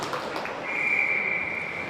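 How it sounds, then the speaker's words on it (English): A referee's whistle sounds at a freshman high school hockey game: one sustained shrill blast of about a second, rising clearly above arena crowd noise. "a pad save from Morbillo, and then a whistle"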